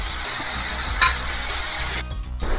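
Onions frying in a pan for tomato dal, a steady, close sizzle and hiss running throughout with one brief louder crackle and a dip as the pan is stirred near the end.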